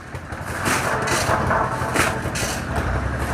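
A tractor engine runs steadily nearby during roadwork on a highway shoulder in a bazaar area of Kashmir, a continuous low rumble with some broadband clatter and no talk.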